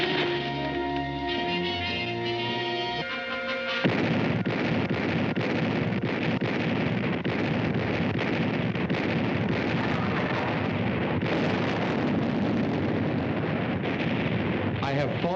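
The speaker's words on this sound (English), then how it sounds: "925 big guns direct fire on this one objective" Massed artillery barrage of 925 big guns firing on Monte Camino, a dense, continuous roar of booms and rumble after a brief stretch of music, loud and sustained, with narration over it.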